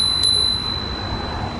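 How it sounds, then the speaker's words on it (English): A bell on an electric scooter gives one quick, bright ding that rings on briefly over steady outdoor background noise. "The bell on this one's a little bit more sophisticated than"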